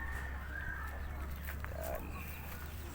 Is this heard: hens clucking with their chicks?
yes